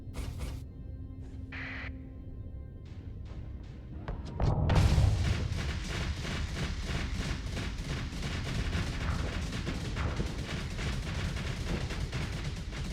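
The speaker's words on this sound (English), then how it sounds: "That's a lot of bombs. I got hit by some of them." Bombs exploding in the space combat game Starsector, a dense run of rapid booming blasts and gunfire-like bursts that builds after a few scattered electronic tones, loud and continuous to the end.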